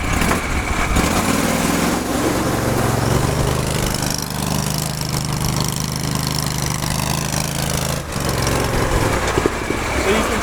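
A steady, loud engine drone from an Argo Avenger amphibious ATV as it turns in a semicircle, the motor holding a constant hum close by for the whole clip, with a speaking voice partly over it.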